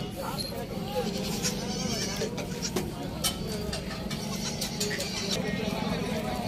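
Tapri and Barbari goats bleat at a roadside livestock market on the Hyderabad bypass, repeated calls rising over a steady crowd murmur and nearby voices.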